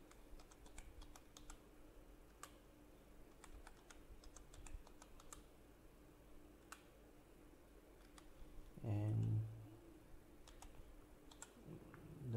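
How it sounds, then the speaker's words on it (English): Quiet typing on a computer keyboard while entering a key during a Microsoft BizTalk 2020 installation, scattered soft key clicks over a steady background hum, then a brief low thump near the end. "So let me just type."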